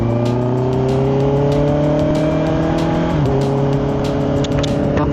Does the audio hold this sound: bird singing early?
no